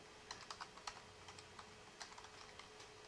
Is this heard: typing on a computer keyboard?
yes